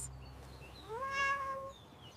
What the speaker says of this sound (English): She is a happy cat.